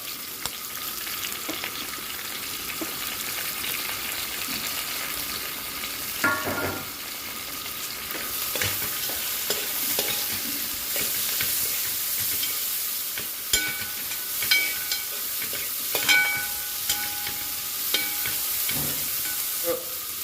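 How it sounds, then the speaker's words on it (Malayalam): Onions frying in a pan for a country-style fish head curry, a continuous close hiss of oil with scattered spatula scrapes and taps throughout, no voices. "സവാള ഇട്ട് കൊടുക്കാം"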